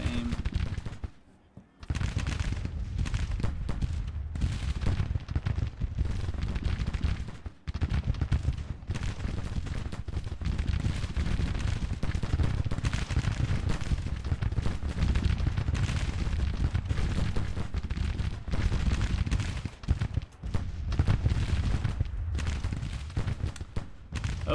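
Massed musket fire from Civil War infantry firing at will in Grand Tactician: The Civil War rolls on continuously as a dense, ragged crackle of overlapping shots for over twenty seconds, loud and sustained.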